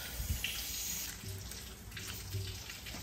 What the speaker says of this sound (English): we can lock the nozzle open and just flush the system if we want to and let it run